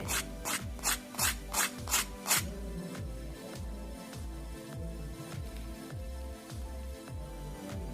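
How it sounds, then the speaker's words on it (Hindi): Rapid crisp crunching bites of a crispy fried poha and gram-flour batter snack, about seven sharp bursts in quick succession, followed by a steady rhythmic rasping scrape with low thumps continuing alone. "सुन सकते हैं इसकी आवाज़ कि ये कितना क्रिस्पी बनकर के तैयार होता है"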